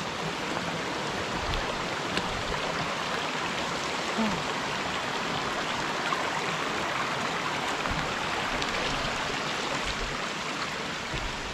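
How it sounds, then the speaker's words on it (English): Steady rushing water from a small cascading waterfall in Borșa, Romania fills the air, a continuous even splash heard up close with no other sounds. "Oh yeah, the waterfall there. Well, it's a small one, but it's cascading."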